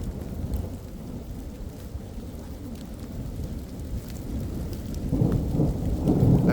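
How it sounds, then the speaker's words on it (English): Heavy rain pours down in a cemetery during a thunderstorm, with low rolling thunder rumbling underneath a steady wash of rain that swells louder toward the end. "Oh, these raindrops are huge."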